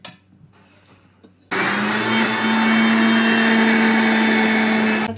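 A mixer grinder whirs loudly and steadily in its large jar, grinding ingredients for lasooni palak. It starts abruptly after a quiet stretch and keeps up a constant, high-pitched motor drone to the end.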